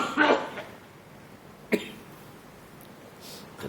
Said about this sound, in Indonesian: Kena batuk dulu, batuk yang beneran.